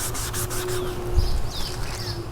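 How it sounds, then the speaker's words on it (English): Scuffing plastic car trim by hand before painting, a steady back-and-forth abrasive rubbing, close and continuous at moderate loudness. "it's gonna be going back and forth like this, putting scratches in it, scuffing it up."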